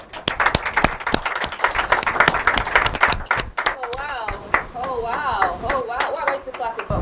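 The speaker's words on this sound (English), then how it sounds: "What am I still clapping for?" Audience at an inter-collegiate debate competition applauding, dense rapid clapping that fades into lighter scattered claps as a voice begins speaking over it.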